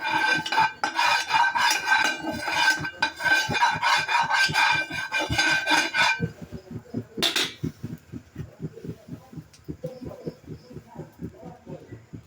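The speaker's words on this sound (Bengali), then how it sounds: "এই তেলটাই আমি সম্পূর্ণ ফ্রাই প্যানে ছড়িয়ে দিব।" Oil brushed across a dry frying pan while making hand-made Korean-style noodles: a rapid, close scraping of bristles on metal, busy and dense for the first six seconds, then thinning to lighter, softer strokes.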